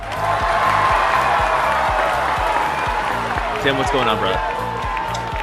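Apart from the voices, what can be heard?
crowd cheering sound effect in podcast intro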